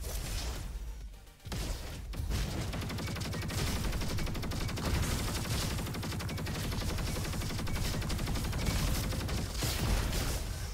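The Quasar SMG fires in the game Roboquest as a rapid, continuous stream of energy shots that runs almost the whole clip after a brief pause near the start, loud and sustained.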